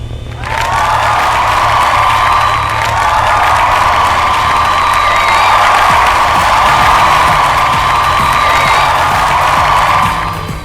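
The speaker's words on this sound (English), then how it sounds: "This used a royalty-free looping crowd cheer sound effect." A large crowd cheering and applauding loudly and continuously in a racing video game, a looping dense roar of voices and whoops that swells and holds steady.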